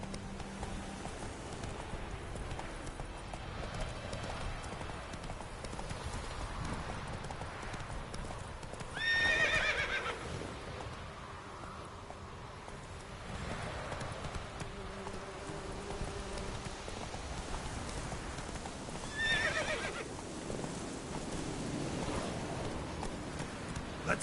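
Roach, a horse in the video game The Witcher 3, gallops with steady clip-clop hoofbeats throughout, two short whinnies rising near the middle and again toward the end, over faint buzzing insect ambience.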